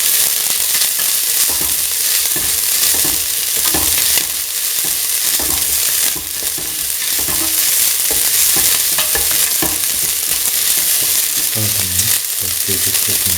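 Grated coconut and green chili stirred in a frying pan, a steady loud sizzle with scraping stirs running throughout, no voices.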